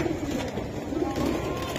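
Giribaz pigeons at a pigeon market, soft low cooing repeated through a short stretch amid quiet background bustle.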